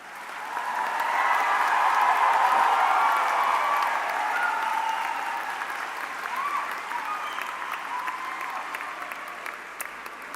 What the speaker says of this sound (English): let's give yourselves one more big round of applause.